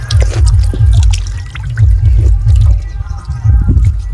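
Water runs and pours at a jungle spring near a Mahisagar shrine, with a steady splashing flow over a low, pulsing rumble close to the microphone.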